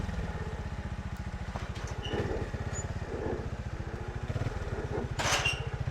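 A classic 1982 Fantic 200 trials motorcycle engine idles with a steady, low, rapid thumping pulse. It sounds close and moderately loud, with a few small clanks over it.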